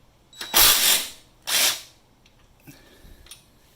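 An impact wrench works on a rear shock bolt of a 2022 Honda Grom motorcycle, giving two close, loud bursts of hammering whirr, followed by quieter clicks and rattles of the tool.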